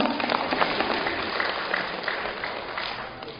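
An audience at a talk applauds in a short, steady round of many hands clapping together, fading slightly as it ends.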